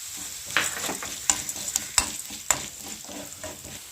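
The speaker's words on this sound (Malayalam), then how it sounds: "ഉള്ളി ചെറുതായിട്ടൊന്ന് മൂത്ത് വന്നിട്ടുണ്ട് അപ്പോഴത്തേനെ അതിലേക്ക് ഒരു ടേബിൾ സ്പൂൺ ഉഴുന്ന പരിപ്പ് അതുകൂടെ നമുക്ക് ഇട്ട് കൊടുക്കാവേ" Urad dal tossed into onions frying in a pan, with a soft continuous sizzle and repeated close spoon strokes scraping the pan for jackfruit erissery.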